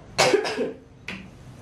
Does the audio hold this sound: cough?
yes